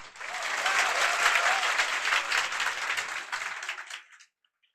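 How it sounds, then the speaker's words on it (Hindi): An audience breaks into sustained applause, many hands clapping loudly and evenly for about four seconds before stopping abruptly into silence. "चलिए एक बार ताली बजा दीजिए"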